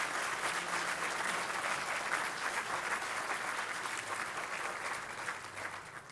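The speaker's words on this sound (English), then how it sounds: "Let's give our guests one big round of applause" Sustained applause from a large crowd, dense and steady clapping throughout, fading slightly toward the end.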